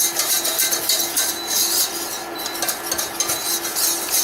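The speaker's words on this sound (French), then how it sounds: "je cuis, je remue sans arrêt de façon à ce que ça brûle pas" A blond roux for a veal blanquette is stirred nonstop in a pan, with a steady scraping swirl and soft sizzle, close and continuous with no talking.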